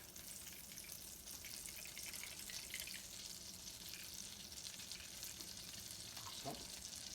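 Onions sweat gently in a pan with butter and olive oil, giving a soft, even hiss that runs throughout, faint and close, with a brief clink of a utensil near the end.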